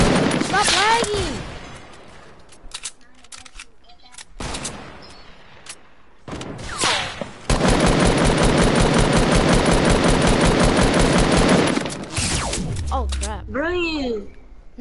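Rapid automatic gunfire and shots from an online shooter video game, loud sustained bursts with a long continuous volley in the middle, mixed with gamers shouting and talking excitedly.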